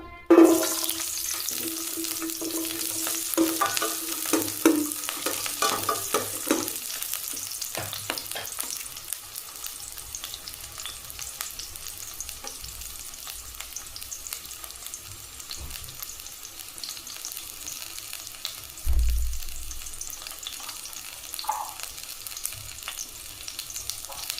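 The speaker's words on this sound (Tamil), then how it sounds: "எண்ணெய் ஊற்றிட்டு வெங்காயம் ஒரு 10 வெங்காயம் போல் போட்டுக்கலாம்." Onions frying in oil in a wok-like pan crackle and hiss steadily for a long stretch, with occasional stirring scrapes and a low thud partway through, and no talking.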